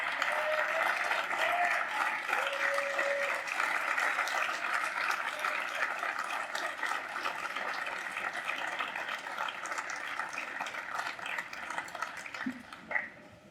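Sustained audience applause welcoming Senator Dan Feltes at a Labor Day gathering, a steady wash of clapping from a crowd that continues for over ten seconds before tapering off, with no talking.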